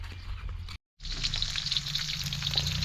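Sun-dried pork frying in a pan gives a close, steady bright sizzle with crackling spatters, cut by a brief dropout, then resuming just as dense and lively with no voices.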